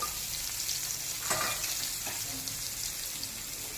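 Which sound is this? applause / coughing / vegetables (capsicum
vegetables (capsicum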